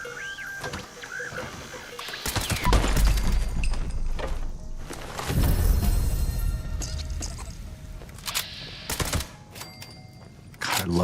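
Muffled, suppressed shots from a silenced gun in Fallout 76 pop in a few spaced bursts, separated by quieter stretches of game ambience.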